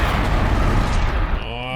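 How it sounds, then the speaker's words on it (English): Explosions from mines and combat against Fireclaws in the Horizon Zero Dawn video game, a loud sustained rumbling boom that dominates throughout and fades slightly near the end. "Oh, more explosion for you."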